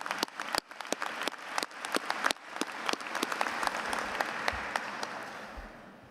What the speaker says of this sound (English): So please join me in a round of applause for all of our families and friends